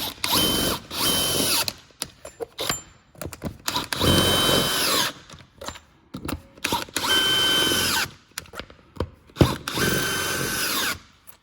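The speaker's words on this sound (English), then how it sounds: "install the wrench, obviously that comes with the kit. Set the torque to probably the highest setting." Power torque wrench from a clipping kit for 8-14mm belt thickness, tightening in repeated loud whirring bursts broken by short pauses and ratcheting clicks, close up and without talk.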